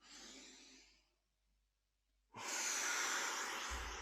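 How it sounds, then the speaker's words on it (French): Breathing during a guided meditation: one slow, airy exhale fades to near silence, then a deep, close inhale swells loudly and holds to the end, with no talk over it. "Et on inspire."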